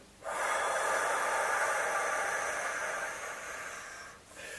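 A long, steady breath out during a guided breathing exercise, a close airy hiss that holds for about three seconds, softens, then ends with a brief new intake.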